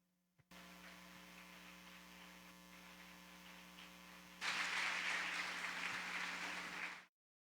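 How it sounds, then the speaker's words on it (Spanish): A church congregation applauds during a worship service, a steady wash of clapping over a constant electrical hum that swells much louder toward the end before cutting off. "Un aplauso."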